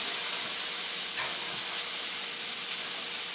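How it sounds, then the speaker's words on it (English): Onions and garlic sautéing in an iron skillet, a steady, close, loud sizzling hiss that holds level throughout without pause. "We have our onions and garlic sauteing in the iron skillet."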